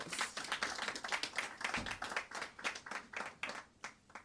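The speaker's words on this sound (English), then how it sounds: "Kindly give them both a round of applause." An audience at a library celebration claps, a fairly faint, uneven patter of applause from a small crowd that fades toward the end.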